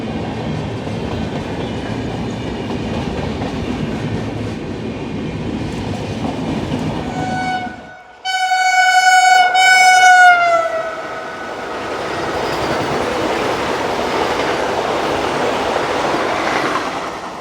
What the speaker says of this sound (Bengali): ভুবনেশ্বর লোকমান্য তিলক এক্সপ্রেস।